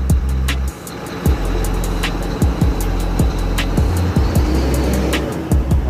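A brand-new 10-ton boom crane's engine revs under the accelerator, a loud, steady low rumble broken by several short throttle surges with sharp clanks on top.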